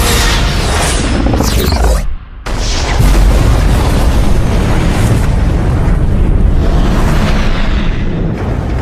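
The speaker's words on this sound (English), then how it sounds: "Massive secondary explosions." Tricobalt torpedoes detonate in space in a movie battle, a loud continuous roar of booming blasts with a brief dip near two seconds before the rumbling explosions surge on, no voices present.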